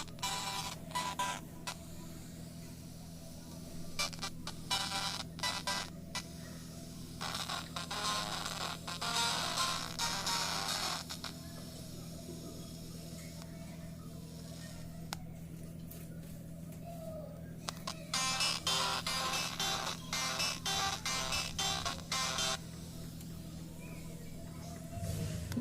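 Xiaomi Mi Y1 phone ringer with a sound fault plays in harsh, crackly bursts that come and go over about twenty-five seconds above a constant electrical hum.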